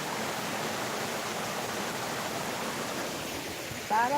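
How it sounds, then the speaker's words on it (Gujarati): River water rushes steadily in England on a snowy day, a continuous broadband flow sound holding level throughout, with a brief louder knock or movement at the very end. "પાણી જોવો જાય છે મસ્ત નદી"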